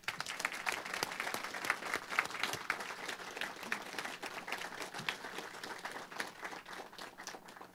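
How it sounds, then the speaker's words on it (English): An outdoor audience at a university solar farm ribbon-cutting ceremony applauds steadily, a dense continuous patter of many hands clapping throughout, with no talk over it. "those folks deserve a huge round of applause"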